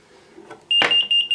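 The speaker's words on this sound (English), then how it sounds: "you've been hearing a annoying little tone come from my buzzer when I start blocking my GPS signal" A cheap add-on electronic buzzer on a drone flight controller sounds a shrill, steady beeping tone in short bursts after some faint handling noise, close and loud.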